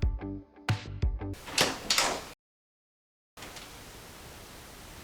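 A pantry door in a home sliding or swinging open, with a few close knocks and a whooshing rush of movement, then a moment of silence followed by steady faint room noise.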